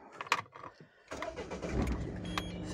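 Car engine starting: a jingle of keys and clicks, a short pause, then the starter cranks and the motor catches into a low steady idle with a faint electronic beep, heard close inside the car.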